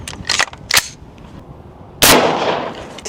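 A green tip 5.56 rifle round fires into a heavy slam ball, one loud sharp outdoor crack partway through, preceded by a few lighter handling clicks and knocks.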